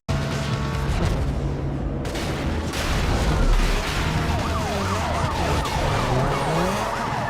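Police sirens wail in rising and falling sweeps during a chase in a 2006 racing video game about cars, layered over loud, continuous engine roar and tyre skids.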